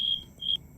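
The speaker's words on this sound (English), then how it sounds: "just that sound, I just be hearing crickets" Two short, sharp high-pitched cricket chirps a moment apart, clear and close against a quiet background.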